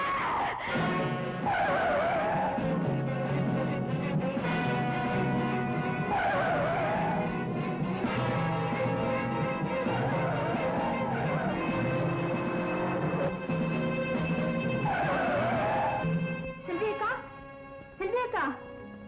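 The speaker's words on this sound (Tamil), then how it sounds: "அவன் காரை எடுத்துக்கிட்டு வேகமா போறான்." A car speeds away in a Tamil film scene, its tires skidding and squealing loudly over a dramatic music score, with voices talking at points throughout.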